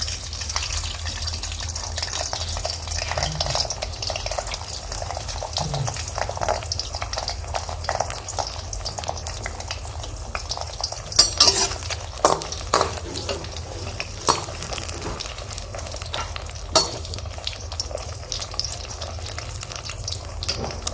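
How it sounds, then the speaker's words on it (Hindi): Eggplant slices fry in hot oil in a karahi, a steady crackling sizzle running throughout with occasional stirring clatter and brief louder pops, close and continuous with no talking. "अब हम इसमें ये बैंगन फ्राई करते जाएंगे।"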